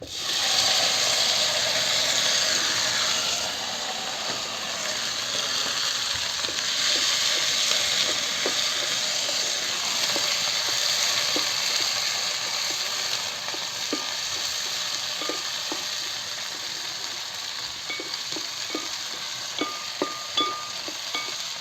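Onion, okra, dried red chillies and curry leaves fry in a pan for Kerala-style sambar, a loud continuous sizzle with scattered clicks and scrapes of stirring that grow more frequent toward the end.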